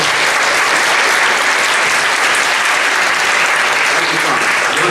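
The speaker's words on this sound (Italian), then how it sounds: "accogliamo con un naturalmente bell'applauso" Loud, sustained applause from a large audience at an evening festival finale in Italy, a dense, even wash of clapping that continues without pause.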